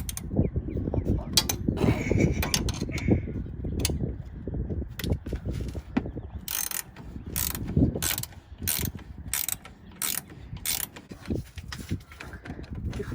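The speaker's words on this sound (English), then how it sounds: "Now we have to take those top bolts off." A ratchet works the top bolts loose, a steady clicking mechanical rattle up close, with sharp metallic clacks and knocks breaking through in the second half.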